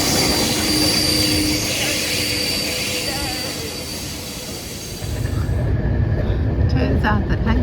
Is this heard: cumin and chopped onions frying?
no